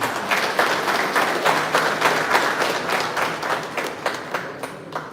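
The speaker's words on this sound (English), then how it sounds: "thanks to audience, we could clap for yourself" An audience at a live event claps steadily for several seconds, a dense even patter of many hands that thins slightly toward the end.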